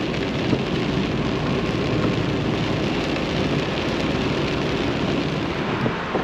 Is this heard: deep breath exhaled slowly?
no